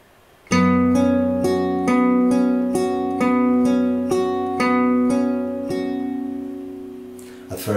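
Fingerstyle acoustic guitar playing measure 5 of a song from Your Name, open strings ringing with steady plucked arpeggio notes at an even rhythm, close and clear, unaccompanied.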